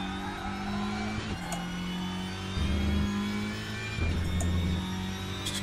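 A WTCR 2021 touring race car engine in the Raceroom sim revs up through the gears, with loud steady droning pitch climbs broken by quick shifts, heard alone.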